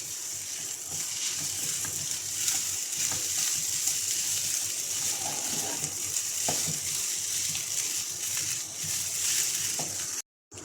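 Chopped onion with lemon juice and fresh coriander frying in a pan for chicken keema samosa stuffing, a steady close sizzle with occasional stirring scrapes, running continuously before a brief cut near the end.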